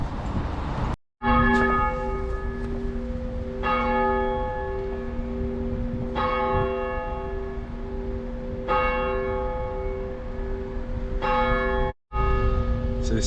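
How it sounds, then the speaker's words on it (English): Church bells ring out at a second church along a town high street, several loud, resonant strikes spaced every couple of seconds, each with a long humming decay. Two brief dropouts cut the sound. "So this is us at the second church now, as you can hear it chiming."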